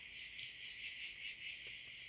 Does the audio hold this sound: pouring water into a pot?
no